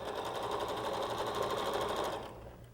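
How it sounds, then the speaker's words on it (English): A sewing machine chain stitches quilt pieces for a windmill quilt, a loud steady whir that stops near the end and leaves a quieter tail. "So you can go ahead and chain stitch from one to the other."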